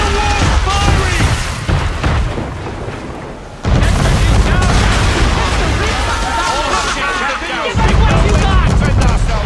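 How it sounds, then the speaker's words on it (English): Heavy booming cannon fire from a man-of-war warship in Assassin's Creed 3 rumbles through a naval battle, with low blasts under constant shouting crew voices. "Man of war firing!"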